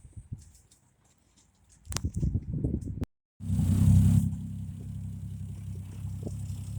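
A turbocharged 2JZ engine in a Lexus GS300 runs roughly, with an uneven patter and a sudden loud burst after a brief dropout, then settles into a steady nearby rumble.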